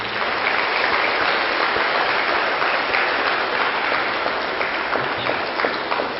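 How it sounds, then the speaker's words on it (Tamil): Steady applause from a crowd, dense continuous clapping at an even level throughout with no voices standing out. "அவங்க எல்லாருக்கும் ஒரு கரகோஷம் மீண்டும்"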